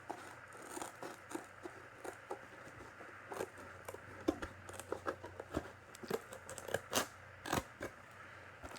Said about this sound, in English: So then you're just going to cut along the edge